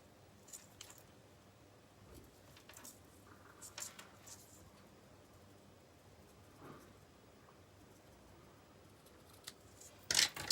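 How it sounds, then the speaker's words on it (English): A few quiet snips of ribbon scissors cutting ribbon, scattered sharp clicks against a faint background, ending with a louder crisp cut. "Take my ribbon scissors"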